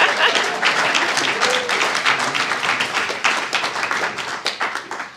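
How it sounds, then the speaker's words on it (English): Audience applause for poet Judy Juanita at a San Francisco museum reading, a dense wash of many hands clapping steadily for about five seconds, loud and close, with scattered voices mixed in. "Another round of applause for Judy Juanita"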